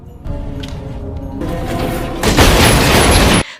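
Gunfire in a film scene as a lift opens, heard as a loud booming burst that builds over a few seconds and ends abruptly, with no talk.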